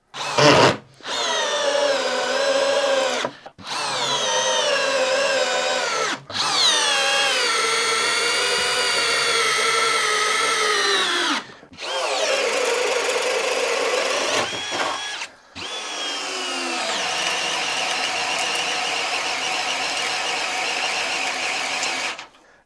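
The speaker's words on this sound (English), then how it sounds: "This is the Cobalt 2nd generation brushless drill driver" A Kobalt second-generation cordless brushless drill driver whirs in several runs, revving up and down between short pauses, close and loud with a high motor whine.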